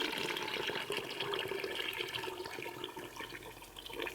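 Water is stirred and squeezed through pounded bitter leaf and scent leaf, giving a continuous close sloshing and splashing of liquid.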